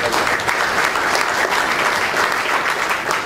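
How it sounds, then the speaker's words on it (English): A press conference audience for a boxing event applauds, a loud and dense wash of clapping that carries on steadily without voices. "I want to just have you guys give yourself a round of applause for making this all possible"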